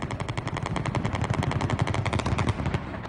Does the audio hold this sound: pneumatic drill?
no